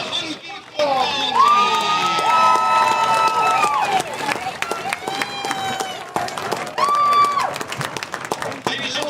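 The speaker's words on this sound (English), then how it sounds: "please give a huge round of applause for 2025 homecoming team" A crowd at a high school football homecoming cheers loudly and claps for the 2025 homecoming team, with shouting children and whoops rising over a continuous roar for several seconds, while a voice speaks through it.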